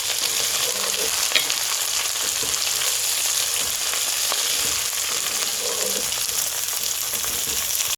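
Onions sauté in a pan for mutton curry, making a loud continuous sizzle with occasional soft stirring knocks, close by and with no one talking.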